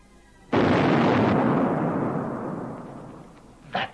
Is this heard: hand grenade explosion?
yes